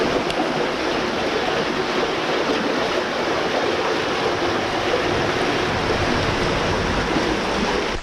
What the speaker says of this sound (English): We're right down next to the river.